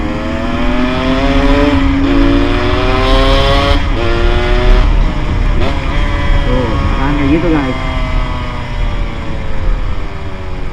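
A Yamaha RX King motorcycle is ridden while downshifting and braking, its engine note falling in stepped slides, with a throttle blip and uneven revs. The engine is loud and close, and someone talks over it throughout.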